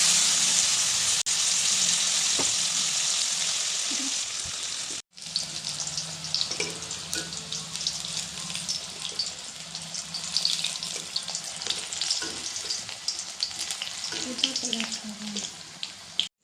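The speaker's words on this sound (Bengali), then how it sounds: "মাছ ফ্রাই করা তেলেই ওলগুলো ফ্রাই করা হচ্ছে।" Yam pieces fry in oil already used for fish, a steady loud sizzle that cuts briefly, then returns as a crackling, popping fry with occasional stirring knocks.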